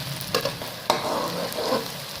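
Chopped onions sizzle in a pan while being stirred, cooking toward golden brown for a urad dal dish. A steady loud crackle carries a few sharp scraping clicks, with no talking.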